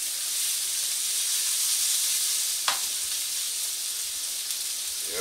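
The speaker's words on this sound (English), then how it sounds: "I'm just going to continue frying this for another few more minutes." Steady high sizzle of shepherd's pie filling frying in a pan, a constant hiss with a brief sharper crackle midway and no voices.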